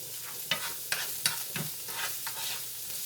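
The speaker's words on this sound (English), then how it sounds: "So now I got these onions cooking pretty good here now." Onions frying in a pan on a home stovetop with a pot of grits nearby, giving a steady close sizzle broken by several sharp stirring scrapes and clicks, with no talking.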